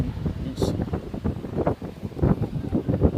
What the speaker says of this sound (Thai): ลมแรงมากเชล เราถือร่มมือเดียวอยู่นะ